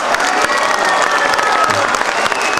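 An outdoor crowd in Melito applauds a singer on his homecoming, a loud, dense, continuous wash of clapping with some cheering mixed in, steady throughout.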